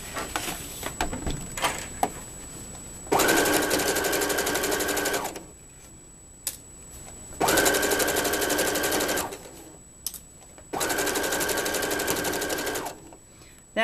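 Sewing machine top-stitching a Christmas stocking, running in three long steady buzzing bursts separated by short pauses with faint handling clicks between, close and moderately loud.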